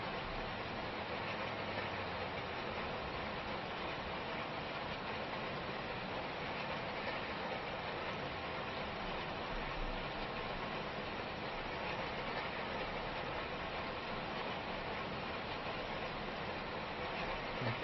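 A tractor engine in Farming Simulator 25 drones steadily and loudly while rolling a field. The broad, even rumble holds throughout with no voices.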